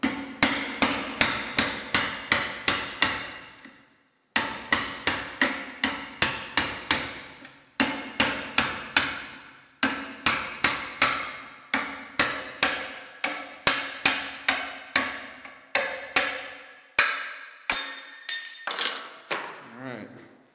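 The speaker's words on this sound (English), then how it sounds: "just gonna open it by cracking that weld open" A hammer strikes a weld to crack it open, delivering many sharp, ringing metallic blows in quick bursts separated by short pauses, close and loud.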